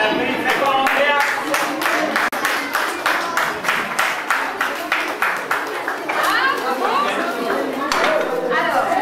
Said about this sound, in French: Et on applaudit très fort Andreas.